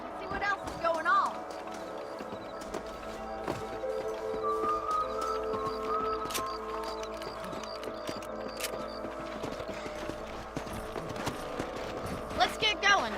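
Horses gallop in the video game Red Dead Redemption, a fast, steady clip-clop of hooves running throughout with occasional snorts, partly under talking voices.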